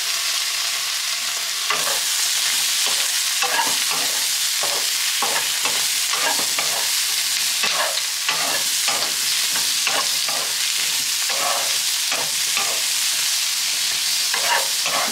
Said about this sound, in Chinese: 炒一炒啲年糕先